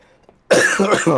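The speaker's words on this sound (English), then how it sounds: "my mic shut off because I was coughing so hard" A single hard, loud cough bursts out after a short near-silence, rough and close, with a raspy throaty follow-through.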